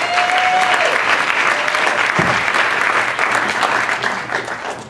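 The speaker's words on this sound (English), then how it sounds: "thank you for the warm round of applause" Warm, steady applause from a seated audience welcomes a panelist at a San Francisco panel discussion, a dense even clapping that stays strong for several seconds and then begins to taper off.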